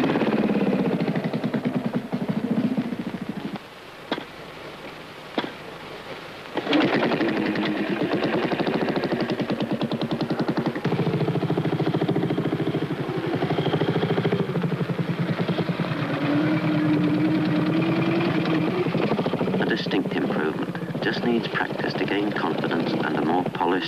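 A trials motorcycle's engine during a slow, controlled descent and ride over rough ground, a steady rasping drone with gentle throttle changes, a brief dip and several short blips, carrying on under spoken narration.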